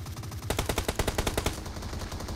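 Rapid automatic gunfire in PUBG Mobile, a dense close burst of evenly spaced shots lasting about a second, loud and alone.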